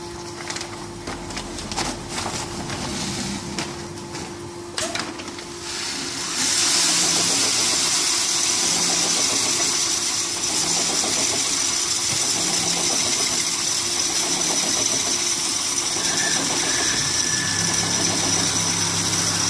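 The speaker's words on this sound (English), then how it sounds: "So auger conveyors are all automatically kicked over." Auger conveyor on a high-speed vertical mixer and auger filler bagging line kicks on partway through, a steady loud motor drone and whir joining earlier machine clatter and continuing to the end, with no talk.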